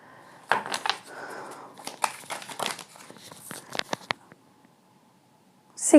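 Tarot cards crinkle and flutter in a series of quick, close riffling bursts, then fall silent before a final short flurry of handling.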